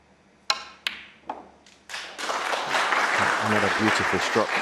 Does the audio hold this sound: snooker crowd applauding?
yes